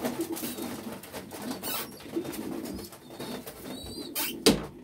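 Pigeons in a breeding loft give soft, repeated cooing calls, with brief rustling and a sharp wing flap or knock near the end.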